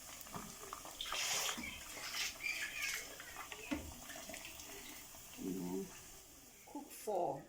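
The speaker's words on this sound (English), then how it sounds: "Add a bit of water." Water being poured from a tap into a pot of Fante Fante stew made with blended ingredients, a few short splashing bursts separated by pauses, with a faint clink of cookware.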